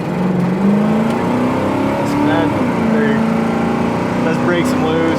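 A 1969 Pontiac GTO accelerates hard with its tires breaking loose, the engine note climbing steadily and loud throughout, with speech mixed in.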